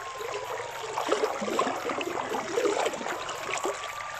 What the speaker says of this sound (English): water current is very fast